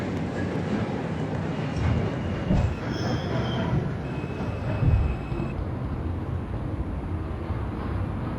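New York City subway 4 train riding between stations, a steady loud rumble of wheels on rail with brief metallic squeals and faint clatter throughout.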